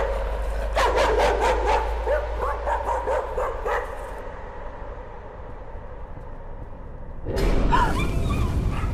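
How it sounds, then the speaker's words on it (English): A dog barks in a rapid burst of several sharp, loud woofs, then goes quiet while a low steady hum continues before a louder noise returns near the end. "Oh, a doggy."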